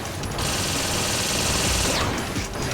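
Machine gun fire in the Metal Gear Rising boss fight against Metal Gear Ray on Extreme difficulty, a loud rapid unbroken burst of automatic gunfire lasting nearly three seconds, with a high whine fading near the end.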